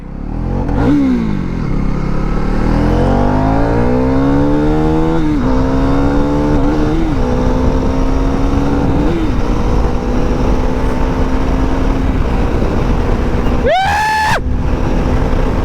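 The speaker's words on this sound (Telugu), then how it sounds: "డ్యూక్ 390 బ్రో ఇది. బండి రాకెట్ రా బాబు, ఇది రాకెట్." A KTM Duke 390 motorcycle rides at high speed, its engine climbing through rising revs and gear changes with a loud, close, continuous roar and wind rush, and a brief sharp burst near the end.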